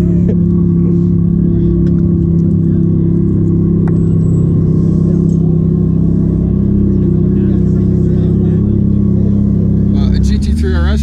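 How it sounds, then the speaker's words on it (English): A Porsche GT3 RS sports car pulls in among exotic supercars, its deep engine rumble steady and close throughout, with people talking over it. "A GT3 RS just pulled in"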